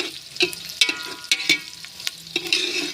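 Onions frying in a pan while being stirred, a soft continuous sizzle broken by several sharp scraping bursts from the stirring utensil, close and fairly quiet, with no voices.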